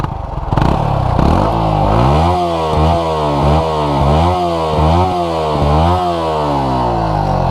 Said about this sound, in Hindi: तो ये थी इन दोनों बाइक्स की आवाज़